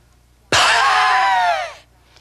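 A forceful diaphragmatic exhalation pushed out through closed lips bursts in suddenly as a loud, breathy, wheezing rush, holds for about a second and then tapers away, with no talking.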